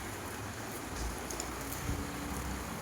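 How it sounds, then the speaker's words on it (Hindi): Steady rain falls outdoors as a dense, even hiss, with a few louder drops or splashes now and then and faint wind noise underneath. "अब पता नहीं कब बारिश रुकेगी।"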